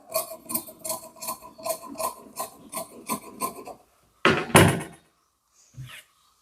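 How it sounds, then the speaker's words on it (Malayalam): Scissors cut through nightie fabric along a marked pattern in a run of short, crisp snips, followed by a couple of louder rustling handling sounds and a brief knock. "ഇത് നമുക്ക് കട്ട് ചെയ്ത് വെക്കാം."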